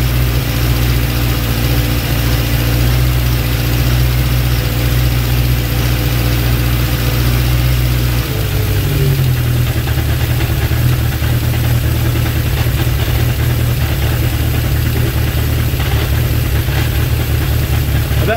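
A Honda CB750 K2 motorcycle engine idles loudly and steadily during carburetor balancing, its low rumble shifting partway through as the revs are brought down, then settling into a lower, even idle.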